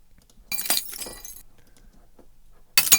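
Glass breaking is added as a sound effect in video editing: a sharp shatter with tinkling shards rings out, fades into quiet, then a second crisp burst of breaking glass strikes at the very end.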